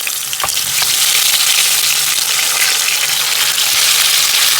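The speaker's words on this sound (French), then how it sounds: "je vais commencer par faire revenir mes tomates" Tomatoes fry in a pan for an African dish, sending up a loud, dense sizzle that stays close and continuous, with a couple of brief knocks near the start.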